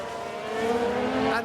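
A race car spinning out in the video game F1 Manager 22, heard as a brief rising engine whine over a steady car drone, close and fairly loud.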